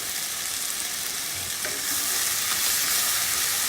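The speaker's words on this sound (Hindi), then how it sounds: "थोड़ा सा इसी आलू को हम कैसे फ्राई कर लेते हैं।" Potatoes fry in a pan for an aloo filling, a loud, close, steady sizzling hiss that swells stronger after a brief stir, with no voices.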